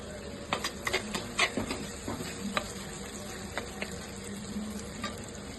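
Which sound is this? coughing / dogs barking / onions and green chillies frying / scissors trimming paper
onions and green chillies frying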